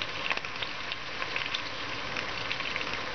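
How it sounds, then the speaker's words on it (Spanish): Chicken sears in a hot pot, a steady dense sizzle and crackle that stays even and fairly quiet throughout, with no talking. "esto va a sellar por los dos lados"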